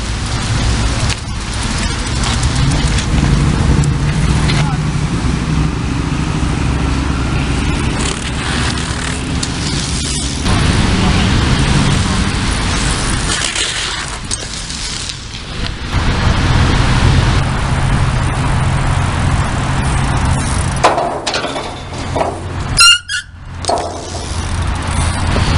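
BMX bike grinding along a street curb, a long loud scraping rush of metal on concrete with rolling wheel noise, continuous and close, ending in a brief clatter.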